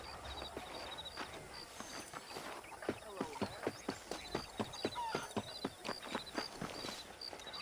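Horse hooves clip-clop at a steady walking rhythm in Red Dead Redemption, close and clear over a continuous outdoor ambience.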